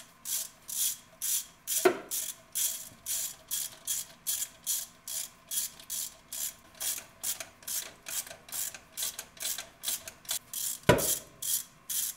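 Hand tools working on the fuel rails of a Porsche 914 intake manifold, a steady run of close rhythmic ratchet clicks with two sharper knocks, no talk.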